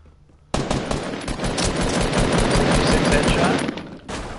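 Rapid automatic gunfire in a video game squad match, a loud continuous burst of shots close up that runs for several seconds before cutting off briefly and resuming.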